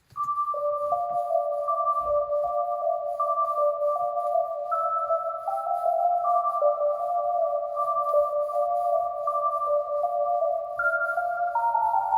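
A dark, steady trap beat synth melody plays alone, layered tones stepping between a few notes in a slow repeating pattern, sustained and even in loudness throughout.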